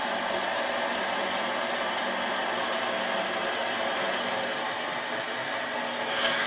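Metal lathe cutting threads with the feed engaged: a steady mechanical whir and hum with faint rhythmic ticking, continuous and moderately close, with no one speaking.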